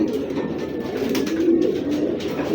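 A female pigeon gives a soft, continuous cooing murmur, close by against a steady hiss of background noise.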